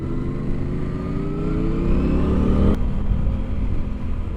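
A sport motorcycle accelerates hard along Route 17, a North Jersey highway, its engine note climbing steadily through a gear before a sharp shift change, then droning on loud and close with steady wind rush and no talking.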